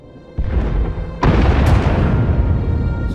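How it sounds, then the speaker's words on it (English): Bombing explosions in the Star Wars: The Old Republic video game: a sudden loud boom, then a second heavier blast that rolls into a sustained, dense rumble, close and powerful, with no talking. "Sounds like the bombing's getting closer."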